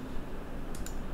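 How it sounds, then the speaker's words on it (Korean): Two quick, faint computer mouse clicks land close together near the end, set against a steady low background hum during 3D modeling work in Maya. "마우스 우클릭해서 완료 클릭 클릭 우클릭 좌클릭 우클릭 우클릭"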